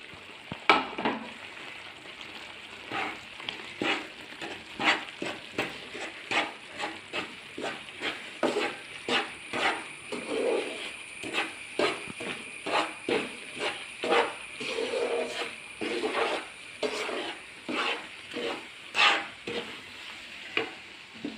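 Green gram powder is stirred into a coconut and jaggery mixture in a pan on the stove while making cherupayar ladu, with a steady rhythm of repeated scraping strokes over a soft sizzle, close and alone.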